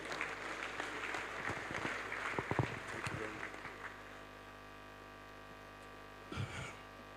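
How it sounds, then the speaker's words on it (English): An audience at a college of agriculture inauguration in Edo State claps for several seconds. The applause then fades, leaving a low electrical hum and a brief final patter. "A round of applause"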